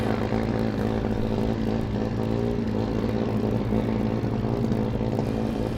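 Formula Student race car engines at an autocross event roar in a loud, continuous, droning blend with a steady buzzing pitch, close by and unbroken for the whole stretch.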